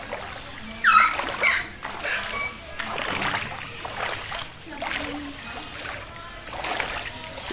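Splashing through knee-deep rainwater flooding the gate of a house, with a boy wading nearby; a run of irregular, moderately close watery slaps and sloshes, several sharper splashes near the start, over a continuous wet hiss.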